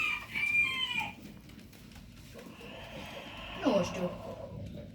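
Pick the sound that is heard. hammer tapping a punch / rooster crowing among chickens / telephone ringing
rooster crowing among chickens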